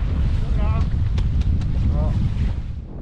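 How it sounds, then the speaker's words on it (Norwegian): Strong wind at sea buffets the microphone aboard a fishing boat, a constant loud rumble with a voice briefly audible over it. "Nå har vinden tatt seg hardt opp her ute."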